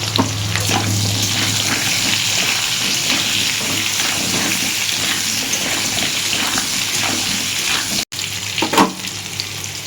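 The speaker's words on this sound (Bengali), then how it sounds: "সামান্য নুন দিয়ে একটু ভাজবো আমি যাতে সেদ্ধ হয় ভেতরে নুনটা ভালোভাবে ঢুকে যায় আলুতে" Potato pieces fry in a pan with salt and turmeric, sizzling loudly and steadily at close range, with scraping stirs and a brief clatter near the end.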